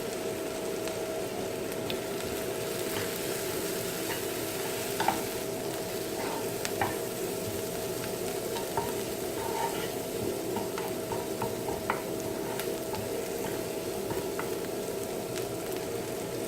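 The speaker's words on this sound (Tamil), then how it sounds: "பாதி வதங்கின அப்புறம் மிளகுத்தூள், சீரகத்தூள், தேவையான அளவு உப்பு, கொஞ்சமாக மஞ்சள் தூள்." Onions sauté in a pan with pepper, cumin, salt and turmeric for an egg fry, giving a steady, even sizzle with light stirring scrapes throughout and no talking.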